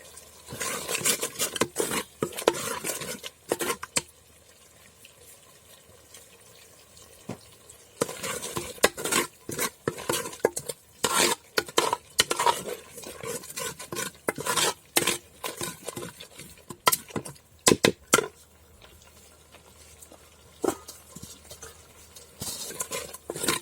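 Masala frying in oil in a pan for an ivy gourd palya, heard as bursts of spoon scraping and clattering against the pan over a low sizzle, pausing now and then.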